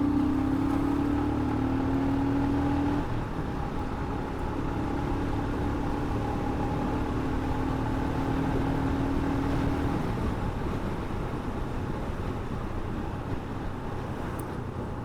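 A Royal Enfield Scram 440 motorcycle engine pulls under throttle while riding, a steady loud drone with wind rush and a tone that holds then shifts, continuous and close throughout.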